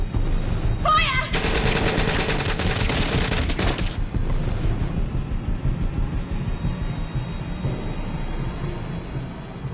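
Rapid bursts of automatic gunfire tear through a scene in an interactive movie game, a loud sustained volley lasting a few seconds before cutting off, followed by lingering low rumble and ambience.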